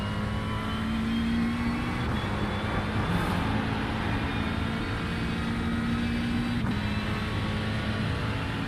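McLaren race car in the iRacing simulation during the Spa 24 Hours, heard from inside the car: a loud, steady, buzzing engine drone held throughout, with brief dips where gears shift.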